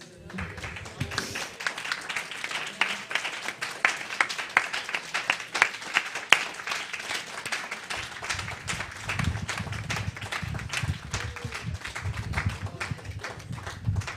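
A church congregation at a Sunday celebration gives Mara a round of applause, with sustained clapping and sharp taps throughout and low rumbling movement joining in during the second half.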